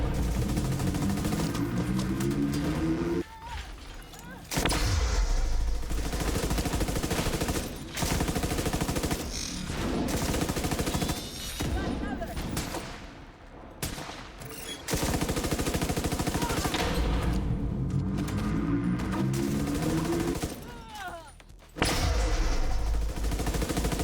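Pistol fire in a video game, sharp repeated shots in rapid bursts punctuating a dense, loud layer of game noise and engine hum, with brief quiet gaps between volleys.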